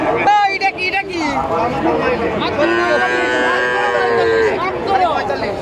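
Friesian cross calves at the Dhap cattle market in Dupchanchia, Bogura, low mooing repeatedly amid a steady crowd babble and nearby voices, the calls drawn out and fairly close.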